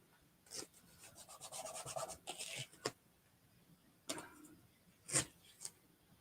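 A chalk transfer is rubbed by hand onto a reverse canvas in quiet, close scratchy strokes, with a run of quick rasping rubs followed by a few separate swipes.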